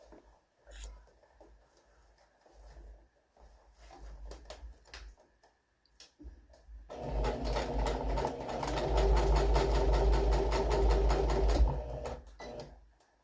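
A sewing machine stitches across the corners of a fabric storage caddy, a steady rapid whirring run that starts loud and close after several seconds of quieter handling and continues alone for about five seconds.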